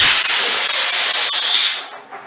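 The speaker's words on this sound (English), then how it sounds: "So we're just going to go ahead and blow up our 5th balloon." A balloon inflated by a pump for a topiary balloon column, a loud steady rush of air lasting about two seconds, then cutting off abruptly.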